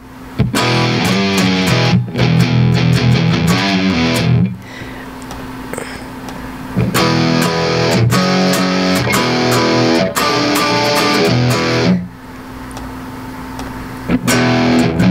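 A heavily distorted metal guitar tone from the Logic Pro X Amp Designer chugs through loud, aggressive palm-muted riffs, stopping briefly between phrases before charging back in.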